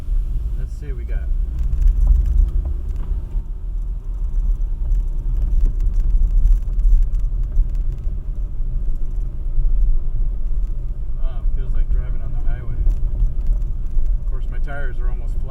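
A car cruises along a smooth desert road on nearly flat tyres at about 40, its steady low engine and road rumble droning throughout while people talk inside over it.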